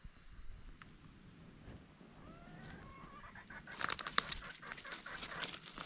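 A chicken clucks outdoors in a forest at breakfast time. The calls are faint and scattered, with soft rustling, and they rise to a louder flurry of sharp clucks toward the end.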